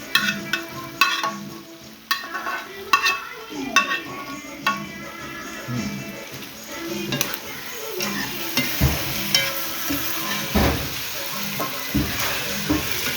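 Dried fish (shutki) and onion stirred and fried in a pan, with repeated scraping strokes of a utensil over a steady sizzle, close and fairly loud, no talking.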